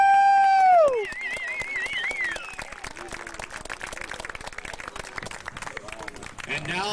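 Crowd clapping outdoors at a 2004 t-ball ceremony, scattered hands applauding steadily after a loud tonal whine at the start, with a voice talking over it.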